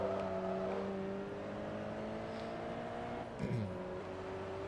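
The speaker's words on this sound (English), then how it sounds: "Also, this car is pretty rev happy now." A tuned car in Forza Motorsport 2 revs high, near 8,000 rpm, its engine whine climbing and holding steady before a sharp drop and shift near the end; loud and continuous.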